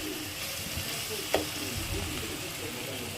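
Tomato gravy fries in a pan with a steady, close sizzle and crackle, broken by one brief sharp clink of a utensil partway through.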